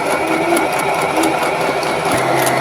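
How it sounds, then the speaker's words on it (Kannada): An automatic electric stitching machine running at its low speed setting, giving a steady, continuous mechanical whir and hum close by, with no talk over it. "ಇದನ್ನು ಆನ್ ಮಾಡಿದರೆ ನೋಡಿ ತೋರಿಸ್ತೇನೆ ನಾನು ಈಗ ನೋಡಿ ನಾನಿಲ್ಲಿ ಲೋ ಅಂತ ಕೊಟ್ಟಿದ್ದೇನೆ ಆಗ ಇಲ್ಲಿ ಸ್ಟಿಚ್ ಆಗೋದು ನಿಮಗೆ ಕಾಣ್ತಾ ಇರಬಹುದು"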